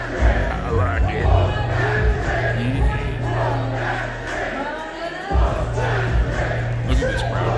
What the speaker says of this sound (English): Look at this crowd going nuts for Trick Williams.